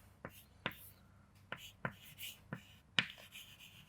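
Sharp chalk-like taps and short strokes on a board, six distinct marks at an uneven rhythm, close and fairly quiet in a still room.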